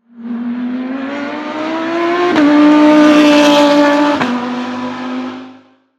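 Porsche 992 Carrera S with its exhaust in normal mode, loud and close on a race circuit, engine revving up in a steady climbing tone for several seconds, with two sharp breaks where the pitch drops briefly, then fading out.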